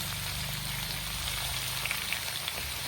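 Vegetables sizzle and fry steadily in a hot pan while pinakbet is cooked, with light crackling pops near the end and no talking.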